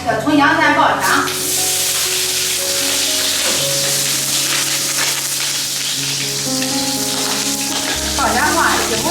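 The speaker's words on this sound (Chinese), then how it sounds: "叫葱姜蒜爆香" Scallion, ginger and garlic sizzle and crackle steadily in hot oil for a braised-eggplant rice dish, close and loud, with a few clinks of a utensil.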